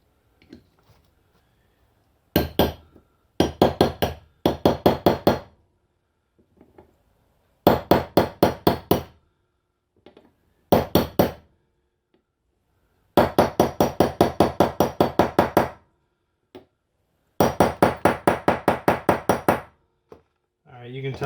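Hammer blows driving a 7/8 socket against a part on a 1988 Ford F250 power steering pump: loud, close, rapid metallic strikes in several separate runs, with quiet gaps between the runs.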